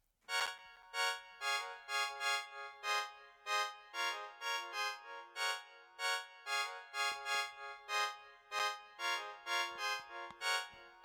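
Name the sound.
organ accordion preset with reverb and delay in a beat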